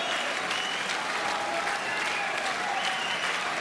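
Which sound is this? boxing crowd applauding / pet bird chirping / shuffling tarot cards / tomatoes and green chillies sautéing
boxing crowd applauding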